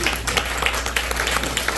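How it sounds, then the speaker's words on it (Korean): Applause welcoming panel speakers onto the stage at a Korean world mission conference, a steady patter of clapping with some voices mixed in underneath. "박수로 환영해 주십시오."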